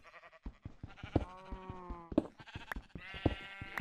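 Sheep bleating in Minecraft, several nasal wavering bleats in close succession amid clicks and small game sounds, fairly near and clear with no talk over them.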